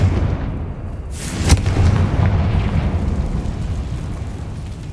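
A Confringo blasting spell fired in Hogwarts Legacy lands as a single sharp, bright burst, then a low rumbling boom that rolls away under steady ambient game noise.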